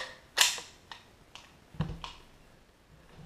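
Slide racked on a Blackwater BW 1911 R2 airsoft replica pistol: one sharp, close metallic snap, then a few lighter mechanical clicks spaced out over the next couple of seconds, with no voices.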